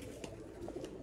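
A large pigeon, a prized rare bataira breed, coos softly several times, fairly faint against a steady low background hum.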